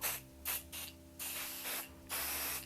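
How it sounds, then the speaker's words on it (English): Several short hissing bursts from a spray can lightly coating fabric, about five sprays in an uneven rhythm, close by with quiet pauses between. "Spray my fabric. Just give it a light coat."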